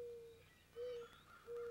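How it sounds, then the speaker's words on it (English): An owl hoots in the woods, three pure, even hoots spaced about half a second apart, faint and alone against quiet background hiss. "It's the owl."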